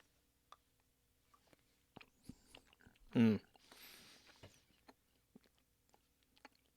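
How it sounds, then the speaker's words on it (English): Someone bites into and chews powdery cornstarch close to the microphone, one crunchy bite followed by soft mushy chewing amid quiet mouth noises, with faint breathy speech around it. "I am about to eat cornstarch for real, no cap."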